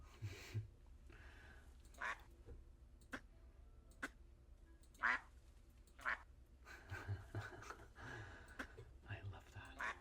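A duck in a cozy video game gives a few soft, short quacks against a quiet background. Gentle ticking and occasional soft speech are heard around them.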